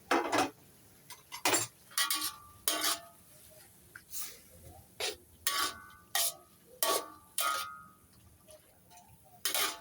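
Bamboo shoots and pork stir-fried with kaffir lime leaves, a spatula clacking against the pan in about a dozen sharp, evenly spaced scrapes and knocks, close and distinct over a quiet background.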